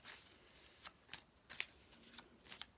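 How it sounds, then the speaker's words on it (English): A deck of tarot cards is shuffled close by, producing a few quiet riffling bursts and soft slaps at irregular intervals against near silence. "So I'm going to shuffle the cards first"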